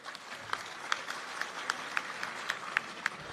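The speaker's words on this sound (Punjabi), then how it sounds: "ਇਹਨਾਂ ਲਈ ਤਾੜੀਆਂ ਹੋ ਜਾਣ ਇੱਕ ਵਾਰੀ" An audience at a media gathering claps in a steady stream of sharp, regular claps, moderately close and fairly light, with faint background murmur.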